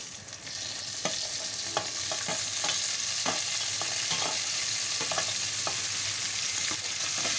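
Tomato pieces fry in a pan with ginger paste for a cauliflower curry under a constant close sizzle, while a utensil scrapes and taps through it in a dozen irregular strokes, with no talking.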